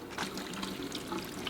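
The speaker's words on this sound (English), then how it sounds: "I'm just going to drain all the water off and rinse it out a couple of times" Water draining off soaked chickpeas in a kitchen: a quiet, steady trickle and pour that runs continuously without pause.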